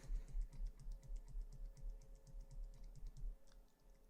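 Computer keyboard keys pressed in quick, even succession while working in Pro Tools, a light steady clatter of close, soft clicks with no talking.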